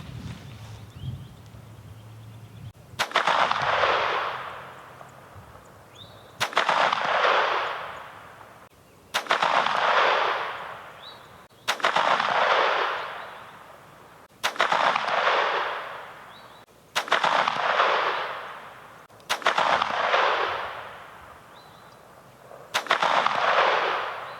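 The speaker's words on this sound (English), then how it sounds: "we're going to go ahead and take some shots at the 100-yarder." Eight loud, sharp pistol shots from a short-barreled Phoenix Arms HP22A .22 fired at a 100-yard target outdoors, spaced about three seconds apart, each with a lingering echo and no talking.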